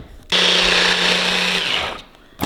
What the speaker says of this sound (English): now I'm going to blend this everything all together